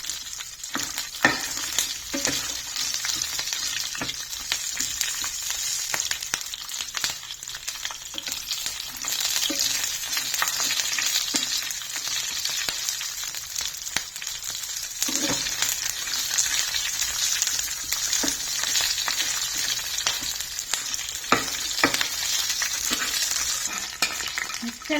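Green chillies fry in oil in a pan with a steady, crackling sizzle, close and moderately loud, with occasional stirring scrapes.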